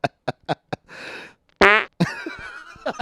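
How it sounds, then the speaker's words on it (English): Cartoonish fart sound effects fire off from an old computer soundboard, a rapid string of short blasts followed by a longer wet one, with laughter breaking in around them. "Yeah, that's our old friends, Perfect Fart and Anxious Fart."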